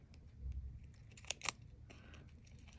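Scissors snip through chocolate wrapper card in a quiet crafting setting, with a couple of sharp close cuts standing out against low background hiss.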